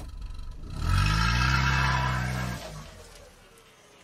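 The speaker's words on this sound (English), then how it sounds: "I sit down and start the car." A car engine catches and revs with a rising, rumbling drone, holds steady for a couple of seconds, then drops away as the vehicle pulls off, leaving a faint background hiss.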